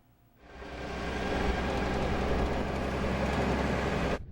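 A heavy oil truck rolls along a rural road with a loud, broad rumbling roar that swells in within half a second, holds strong, then cuts off abruptly.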